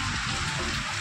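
Rain pouring down steadily, a dense, continuous wash of drops and splashing water close by, with no voices.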